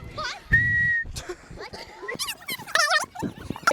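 A person whistles a single sustained, steady note of about half a second, loud and close, amid surrounding chatter and voices.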